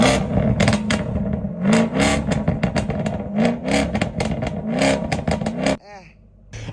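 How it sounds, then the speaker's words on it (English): A Chevrolet Camaro ZL1's supercharged V8 barks through a series of sharp, loud revs in quick bursts, then cuts off abruptly near the end, leaving a quieter whine. "Start the ZL1."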